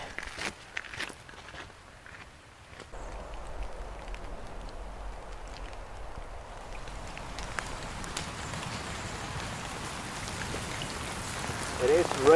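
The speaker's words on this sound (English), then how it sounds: "It is raining." Rain falls on a hillside before sunrise, a soft, steady patter growing slightly denser over time, mixed with footstep-like crunches and rustling close by.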